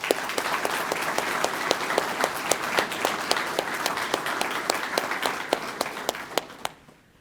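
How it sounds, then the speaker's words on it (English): Audience at a sheriff's office quarterly awards ceremony applauds honored staff, a steady wash of many hands clapping with sharp individual claps standing out, sustained for several seconds before tapering off at the end. "please join me in giving all of the men and women being honored today a round of applause"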